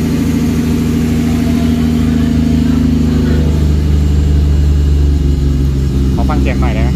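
A Nissan Navara pickup fitted with a Skyline RB26 engine runs while warming up, a steady, loud, deep rumble heard up close, with a brief voice near the end.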